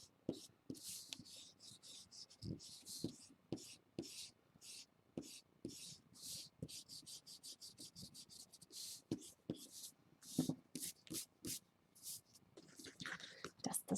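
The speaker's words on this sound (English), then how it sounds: "Be careful not to rub too hard over the Sharpie because you will erase it just a little bit." Eraser rubbing pencil guidelines off paper over Sharpie lines, close and quiet, in short rhythmic scrubbing bursts with brief pauses between strokes.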